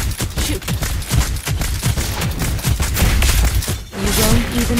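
Rapid gunfire from the hero Lesley in the Mobile Legends video game: dense, loud bursts of shots in quick succession, with a brief electronic tonal effect near the end.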